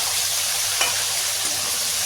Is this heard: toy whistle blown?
no